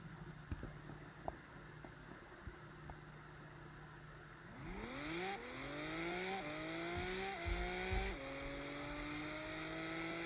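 A sports car in a Roblox racing game launches against a Corvette, its engine note climbing steadily through several upshifts, loud and continuous after a quieter idle with scattered clicks.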